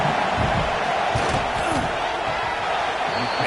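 A football stadium crowd roars loudly and steadily as a field goal is attempted in a college game in Texas, a dense continuous wall of voices and noise with no break.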